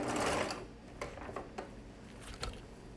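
A sewing machine runs stitching a narrow curved hem on a dress, a close continuous mechanical whir with light ticking and brief changes in speed.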